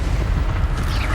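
A fire spell cast in Hogwarts Legacy bursts out as a loud, continuous low roaring blast, dense and booming throughout with no pause.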